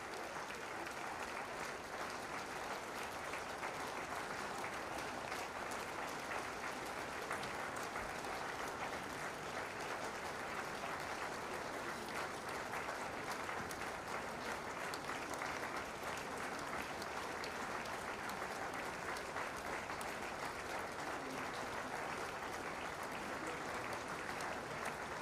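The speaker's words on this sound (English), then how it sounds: "Continue clapping, continue clapping." Parents applaud steadily at an induction ceremony, a continuous, even wash of many hands clapping that holds at a constant moderate level for the whole stretch without pauses or speech.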